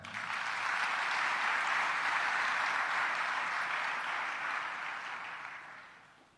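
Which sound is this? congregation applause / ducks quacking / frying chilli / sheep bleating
congregation applause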